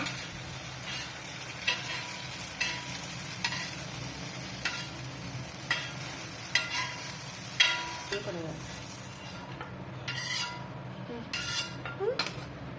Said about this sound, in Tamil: எண்ணெய் ஊற்றிட்டு ஆம்லேட் கலந்து வச்சதை ஊற்றிக்கோங்க.